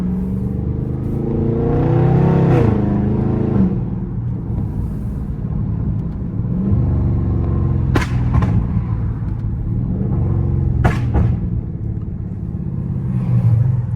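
A Dodge Scat Pack V8 rumbles loudly from inside the car as it downshifts, the engine rising and falling in revs, with a couple of sharp exhaust pops cracking through the steady drone.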